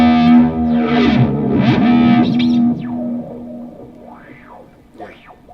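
Guitar run through Old Blood Noise Endeavors effects pedals, loud warbling distorted tones with pitch-bending, whale-like swoops and chorus shimmer, fading into sparse sliding bends toward the end.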